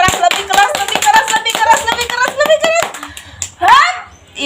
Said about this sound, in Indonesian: sekarang tepuk tangan